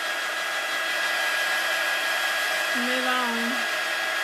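A hair dryer blows steadily and close at hand, drying watercolor pencil on a stamped card, its whine constant throughout with a brief tonal wobble near the end and a few spoken words.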